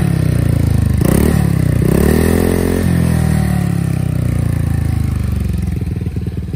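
A Honda ADV 150 scooter with an aftermarket muffler revs loudly up close: a deep, raspy exhaust blat rising and falling through two quick throttle blips, then a longer rev that settles into a rumbling, popping idle, with no talking.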